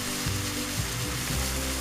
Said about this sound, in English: you want to just let that fillet sizzle in that butter for about 2 minutes before you flip it